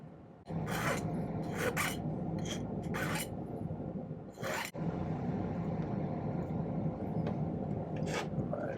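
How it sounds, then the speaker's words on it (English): A hand file works down silver earring pieces in close, rasping strokes, with a few sharp bursts at the start and then steadier scraping. "file them down"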